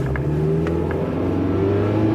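An old, worn car engine revs with the throttle open, a steady, moderately loud drone whose pitch slowly climbs, with no talk over it.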